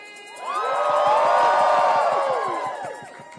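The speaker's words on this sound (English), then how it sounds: "please, everyone, give a big round of applause for Mari" Crowd at an anti-ICE rally at Howard University cheers and whoops loudly, swelling to a sustained roar of many voices with shouts and claps, then easing off.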